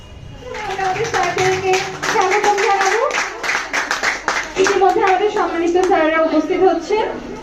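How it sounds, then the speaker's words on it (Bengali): An audience claps to welcome a leader at a permanent leader celebration, the scattered clapping running beneath loud voices throughout. "সকলকে করতালির মাধ্যমে পুনরায় অনুরোধ করব স্বাগতম জানানোর জন্য"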